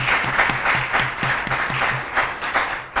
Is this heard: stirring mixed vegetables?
no